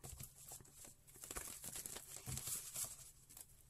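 Quick papery riffling and flicking of playing cards being shuffled, soft rapid patter in several bursts, close and fairly quiet.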